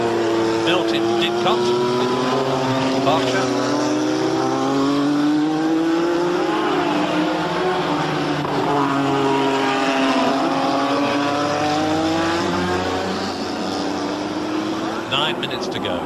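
Formula One race car engines built in Didcot, Berkshire scream past during 1986 British Grand Prix qualifying, several high-revving passes rising and falling in pitch, loud and continuous, with commentary speech underneath.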